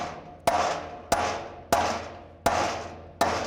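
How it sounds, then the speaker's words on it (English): Five sharp metallic taps ring out at an even pace as a part is knocked into place on a classic Camaro chassis, each strike trailing off in a short ringing decay. "You can kind of give it a little tappy tap into place here."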